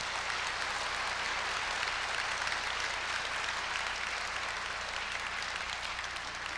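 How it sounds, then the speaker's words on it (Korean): A large audience claps steadily and loudly, a dense, unbroken wash of applause opening the inauguration ceremony for the 19th president of Korea University. "큰 박수로 시작하겠습니다."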